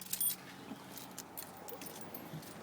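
Car keys jangle briefly near a minivan, a quick bright metallic clink at the start followed by faint scattered rattles in a quiet cabin.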